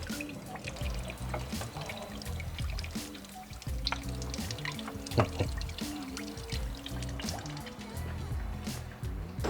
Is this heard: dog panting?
no